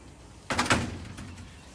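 A door at a kitten cabana opens and shuts in a quick pair of thuds and rattles, fairly near and moderately loud, then a fading tail of room noise.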